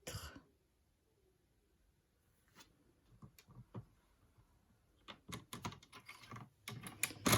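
A craft blade slicing through card stock for a Christmas card, heard as a series of short, close scratchy strokes and taps after a quiet opening, growing busier toward the end.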